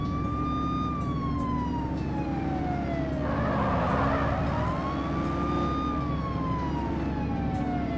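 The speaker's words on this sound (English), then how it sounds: "activate your lights and siren" A police car siren in The Precinct video game wails up and down, loud and continuous, with a short burst of yelping near the middle and a low engine hum underneath.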